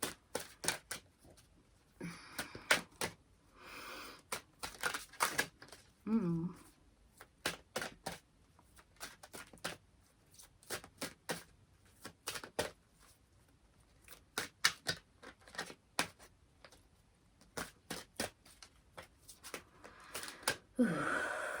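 Repeated crisp riffling and snapping of a tarot deck being shuffled close up, in irregular bursts, with occasional soft breaths between.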